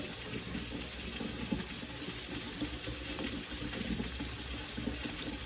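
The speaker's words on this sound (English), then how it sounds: "Also would have helped if I had the cold water on." A kitchen tap runs cold water into a sink in a steady, close, continuous gush with no voices over it.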